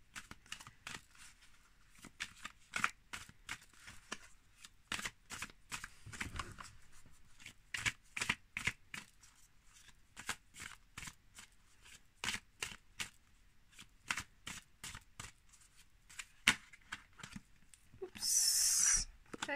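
Tarot cards are shuffled by hand in quick, crisp bursts of riffling and flicking, repeated many times with short pauses, close and fairly quiet, ending with a louder rustle.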